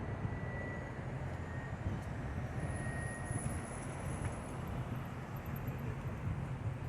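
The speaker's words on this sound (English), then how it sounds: "There's another helicopter, or is it the same one circling?" A helicopter circles overhead near a hospital, a steady, fairly distant rotor rumble that stays constant throughout with no talking.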